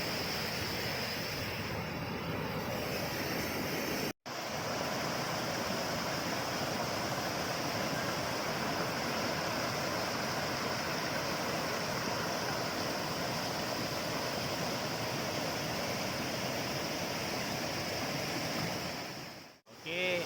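Waterfall and river stream beside a campsite at Takah Pengkoi, Bekok, Johor, a steady, dense rushing roar that fills the whole stretch without letting up, dropping out only for two very brief breaks.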